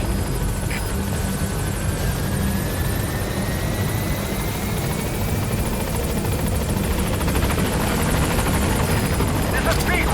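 Helicopter arriving at a landing zone in Metal Gear Solid V, a loud, continuous rotor roar with engine whine that stays close and steady throughout, with radio-style voice chatter over it.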